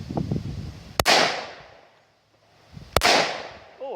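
Two sharp, close pistol shots from a .460 Rowland firing heavier slugs crack about two seconds apart, each followed by a brief outdoor echo that fades to near silence.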